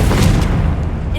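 A Confringo blasting spell explodes in Hogwarts Legacy, a dense, loud booming burst that rumbles continuously through the short moment amid game battle noise.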